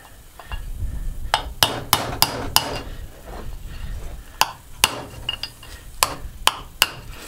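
Sharp metallic hammer blows strike a steel punch to drive a small steel bushing out of an AC unit fan motor being scrapped for copper and aluminum, about a dozen close, irregular clanks over a low rumble.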